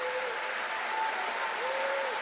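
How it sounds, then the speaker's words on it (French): An audience applauds at the Prix Liberté 2024 ceremony in Normandy, a steady, dense wash of clapping with a faint tonal hum above it. "Je vous remercie d'applaudir les services."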